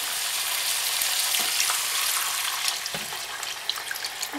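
Water is poured into a pot of frying onions, tinted with food colouring, for poulet mkelli. A bright, rushing hiss of sizzling and pouring fills the pot, followed by a few faint knocks near the end, with no speech.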